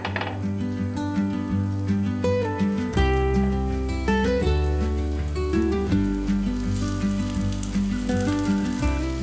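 Chicken and dalia (broken wheat) tikkis sizzle in oil in a pan, with a steady soft frying hiss that sits mostly beneath loud background music for the whole stretch.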